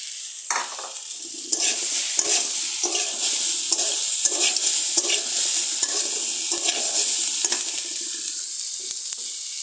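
Eel fish frying with tomato, potato and spice mix, a loud continuous sizzle close by, steadily stirred with repeated scraping clicks of a spatula against the pan.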